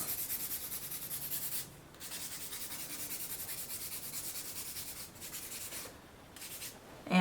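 A sanding block rubs charcoal across a sheet of paper in steady, raspy strokes, with two short pauses between passes; the scratching is close and continuous, with no voices.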